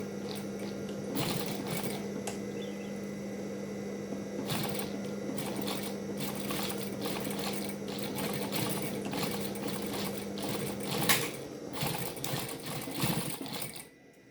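Sewing machine stitching fabric for a mukena bag, a fairly quiet continuous mechanical hum with a steady tone and light rhythmic clatter that stops near the end.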